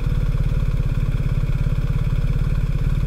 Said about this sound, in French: Putain, je sens des ratés un petit peu sur la moto.